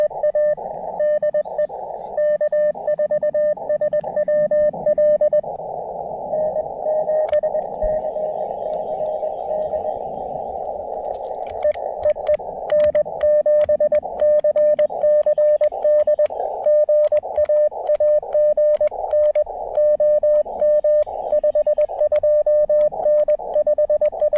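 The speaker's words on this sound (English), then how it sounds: "The band's noisy today, above and beyond just the local QRM here." A noisy amateur radio band at an outdoor Parks on the Air station: steady static hiss with local interference under a continuous beeping tone that keys on and off, with scattered crackles and no voices.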